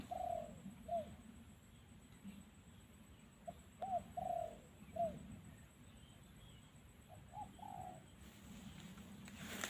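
A bird coos softly at a distance in short repeated phrases, with pauses between them, over a quiet outdoor background.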